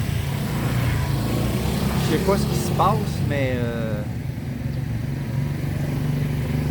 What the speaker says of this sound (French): Excusez le bruit, mais il y a beaucoup de trafic en ce moment.